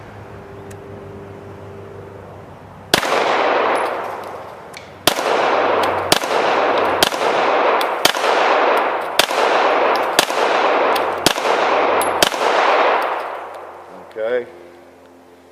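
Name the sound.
pistol shots fired at a target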